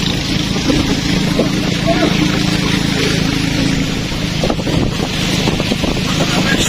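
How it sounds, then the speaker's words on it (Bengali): A boat travels along the winding Sangu river between hills in Bandarban, giving a steady, continuous low rumble with wind buffeting the microphone throughout. "পাহাড়ের বাঁকে বাঁকে আমরা ছুটে চলছি নৌকা নিয়ে।"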